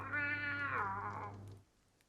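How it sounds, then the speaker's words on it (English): A cat yowls as if in pain in a tabletop fantasy role-playing game session: one drawn-out, harmonic wail that bends downward and trails off after about a second and a half, loud and alone. "a call of a cat"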